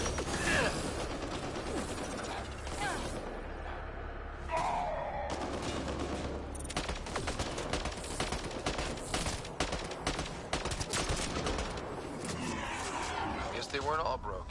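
Combat gunfire in Mass Effect Andromeda: repeated bursts of rapid weapon fire and mechanical clatter mixed with game effects, mostly under people talking throughout.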